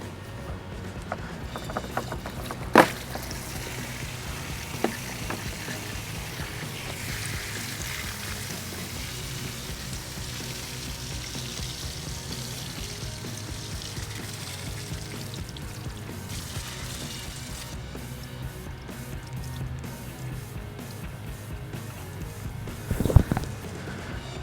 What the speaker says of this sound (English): pull the plug, and let's see how long it takes to drain